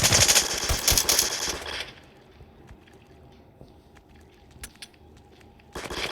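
Loud rapid automatic gunfire from the video game rec.o.r.d bursts for about two seconds. A quieter stretch with faint clicks follows, then another burst of shots at the end.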